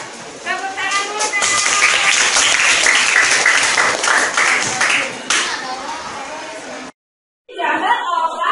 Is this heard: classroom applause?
yes